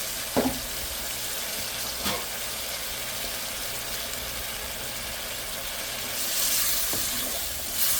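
Spice paste frying in oil in a home kitchen pan for an egg curry, a steady broadband sizzle with a few sharp stir clicks and scrapes, close and even, swelling a little louder near the end.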